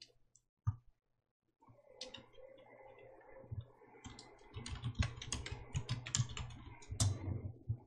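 Computer keyboard keys tapped at close range while entering text in PowerPoint for ITQ certification practice, including Shift+Enter line breaks. A few isolated clicks, a pause, then denser irregular keystrokes with no voice.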